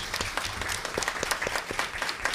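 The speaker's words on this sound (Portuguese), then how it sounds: "uma salva de palmas aqui para a fala do nosso presidente" Scattered, fairly sparse handclaps from a small audience at a Brazilian legislative committee session on combating discrimination, individual claps distinct and uneven over a couple of seconds.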